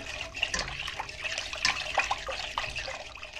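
Chocolate sauce for a cake being stirred quickly in a pot, a steady wet swishing and liquid sloshing with soft scraping, continuous and close.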